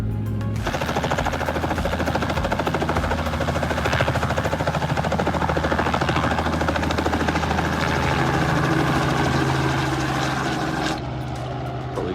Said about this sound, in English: Old mates over there are starting the helicopter up.